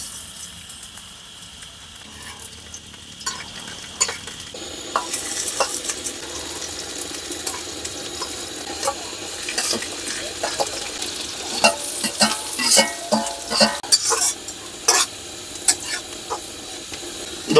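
Onions frying until reddish-brown in a pan for a bean vegetable curry, a quiet hiss that swells into loud crackling sizzle with repeated scraping stirs toward the end, no voices.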